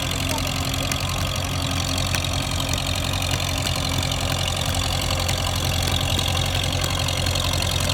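An antique Minneapolis tractor engine idles with a steady, throbbing rumble and faint knocking, continuous and fairly loud throughout.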